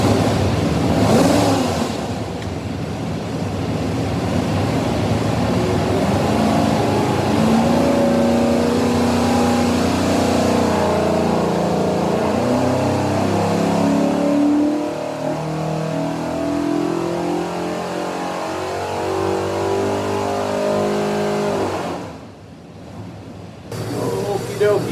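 A 427ci small block Ford engine on a dyno roars up through a long wide-open run, revs climbing steadily before cutting off abruptly near the end, loud and close, with voices faintly audible.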